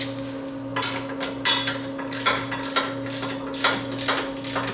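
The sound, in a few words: ratchet wrench tightening a tow hitch pin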